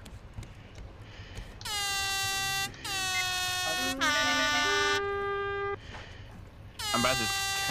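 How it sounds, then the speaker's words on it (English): In the video game Raft, an air horn blares in several loud, sustained blasts of a few seconds each, separated by short gaps, with the final blast cut short. "you want to play with the air horn pro cane?"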